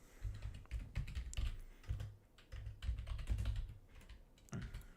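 Laptop keyboard typing, a close run of quick irregular key clicks in short bursts with brief pauses between them, no voices.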